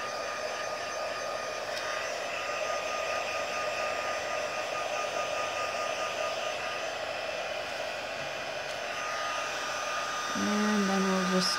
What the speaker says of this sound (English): I'm going to take my heat tool and let it just warm up for a couple of seconds.